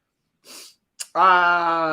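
A single sneeze: a sharp intake of breath, then a loud, close, voiced burst that holds briefly.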